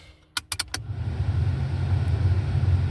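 A car's ventilation fan switched on inside the cabin, preceded by a few quick clicks, then a steady broadband whoosh that builds slightly and holds, close and moderately loud with no talk.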